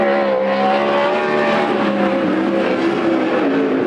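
A sprint car numbered 18T runs a qualifying lap at Coos Bay Speedway during a Western Sprint Tour event, its engine a loud, steady, close roar that holds for the whole stretch without letting up.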